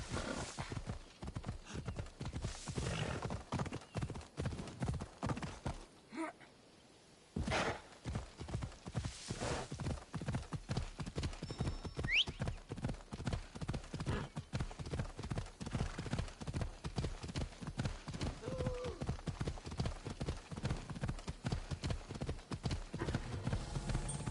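Hooves clip-clop in a steady rapid gallop from a horse in the video game Assassin's Creed Origins, loud and continuous with a brief near-silent gap, plus an occasional whinny.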